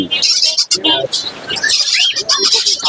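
Caged finches, Bengalese and zebra finches among them, chirp and tweet in a busy chorus at an outdoor pet bird market, with rapid overlapping calls close by and someone talking over them.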